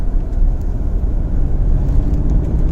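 Inside a Mahindra Bolero Neo compact SUV on the move, a steady low road rumble and engine drone fill the cabin without talk.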